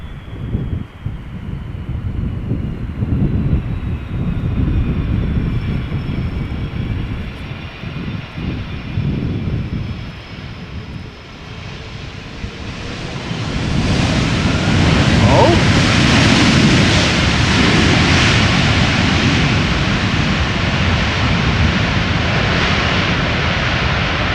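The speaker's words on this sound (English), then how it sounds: "Out of reverser and E2 Embraer taking off from runway 24" An Embraer E2 jet takes off from runway 24 at Schiphol airport: a thin engine whine holds for several seconds, then a loud, broad roar builds and sustains as the aircraft accelerates.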